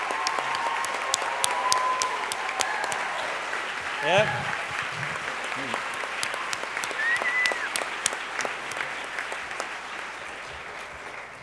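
An audience at a talk on vegan eating applauds a guest who stands up, a long even patter of clapping with a brief spoken word and a few voices mixed in before it slowly thins.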